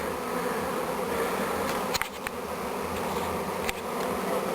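Dense, steady buzzing of a honeybee swarm fills the clip as the bees walk into a hive box, a continuous drone with a couple of faint clicks.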